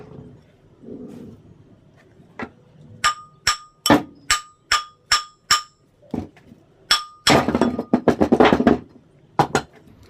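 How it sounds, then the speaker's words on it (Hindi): A hammer strikes a ceiling fan with a burnt-out motor to knock it open, a close series of sharp metallic clanks, first spaced, then a fast burst of ringing blows, alone with no talking. "आपको एक हथौड़े की सहायता से इस प्रकार आपको ठोक ठोक के जो आपका सीलिंग"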